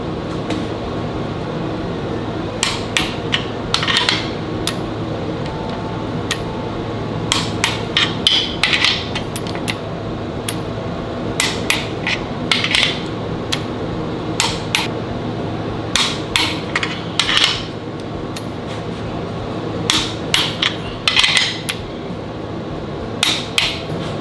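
Repeated clicking and ratcheting of a torque wrench tightening the main bearing cap bolts on a 440 Mopar engine to 90 foot-pounds, in sharp bursts over a steady background hum.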